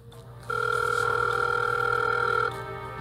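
A steady electronic telephone tone sounds continuously for about two seconds over a low background hum.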